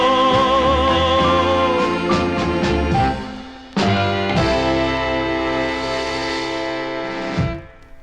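A 1958 doo-wop single on Mercury Records plays back from vinyl with vocal harmony over a band, a sudden full-band chord hit midway and a ringing final ending.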